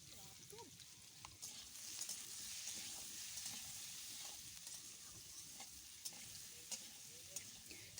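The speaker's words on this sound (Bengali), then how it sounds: "সামান্য একটু হলুদ গুঁড়ো আর একটুখানি লবণ দিয়ে আলুগুলোকে ভেজে নেব" Potato pieces frying in oil with turmeric and salt in a kadai, a continuous crackling sizzle with stirring scrapes and occasional sharp clicks of a spatula against the pan, fairly quiet overall.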